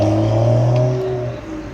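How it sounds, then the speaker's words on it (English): BMW ActiveHybrid 3 Series with a B58 engine revving nearby, a loud sustained engine drone that rises and holds then eases off slightly toward the end, with no talking. "Got this active hybrid 3 series that's like at every meet, but I think it has a B58 engine in it."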